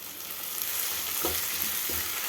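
Tomato going into sliced onions frying in hot oil in a pan for lemon rice, with a steady sizzle and a few soft stirring scrapes rising over it, close and alone.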